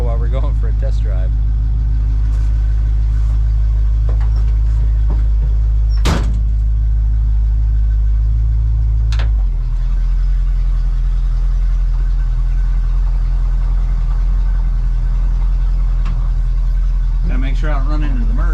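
An old truck with a rusted-through floor rolls along on a test drive after brake work and a tune-up, its engine a loud, steady low drone with a couple of sharp clunks and a shift in engine note partway through.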